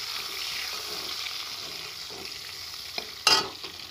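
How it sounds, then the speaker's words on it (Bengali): Chopped onions and cumin sizzle steadily in hot oil, with soft scraping strokes as they are stirred and a brief louder clatter near the end. "তারপর আমি দিয়ে দেবো পেঁয়াজ কুচি। পেঁয়াজটা ভালো করে নেড়ে ছেড়ে আমি"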